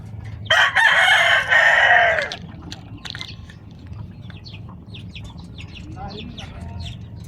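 A rooster crows once, a loud, close cock-a-doodle-doo lasting about two seconds, followed by quieter clucks and faint chicken sounds in the background.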